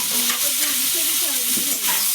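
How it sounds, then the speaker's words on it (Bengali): Chopped onion and tomato frying in oil with bay leaf, cardamom, cloves and cinnamon for a spicy sea crab dish, giving a loud continuous hiss and sizzle with faint stirring, close by. "পেঁয়াজ টমেটো একটু ভাজা হোক।"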